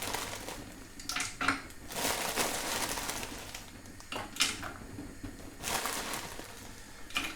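Vegetables tumbling into a pan of curry made with a Mayflower curry sauce mix, then stirred, giving soft scraping and clattering against the pan in uneven bursts at close range with no talk.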